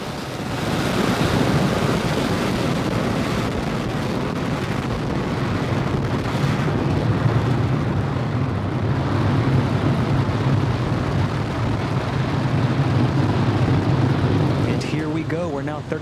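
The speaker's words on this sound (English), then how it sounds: "All engines are running at full power." A Falcon 9 rocket carrying the Türksat 5A satellite roars with all engines at full power during launch, a loud, steady, rumbling wash of noise that holds throughout, with a voice faintly over it.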